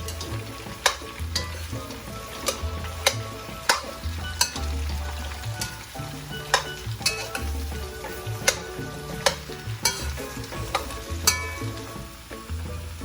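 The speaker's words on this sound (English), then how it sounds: "So add all your pumpkin, and then you want to fry that up a little bit." Pumpkin frying in a pot for Trinidad sada roti and pumpkin, a constant close sizzle broken by sharp regular scrapes and knocks of a spoon against the pot, with no talking.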